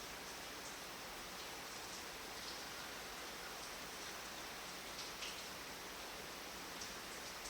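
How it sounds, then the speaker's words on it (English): Steady rain pours down with a dense, even hiss and scattered faint drips, continuous and moderately quiet throughout, with no voices. "Pouring, dripping, gushing rain"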